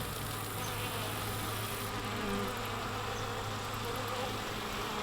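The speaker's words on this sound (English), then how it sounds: "The bees don't make me as nervous as they do other people." Bees buzzing outdoors around food storage: a steady, dense hum that holds at an even level throughout, with no voices over it.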